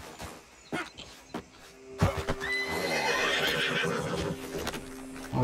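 Horse neighing in Red Dead Redemption 2: a few faint hoof-like thuds early, then a loud, drawn-out whinny with wavering pitch filling the last three seconds, no talk over it.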